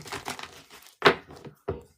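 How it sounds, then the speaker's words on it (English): Tarot cards shuffled in quick, crisp bursts: a few papery riffles and snaps spaced across a couple of seconds, close and fairly loud with short quiet gaps between, no voices. "Quick shuffle for Gemini."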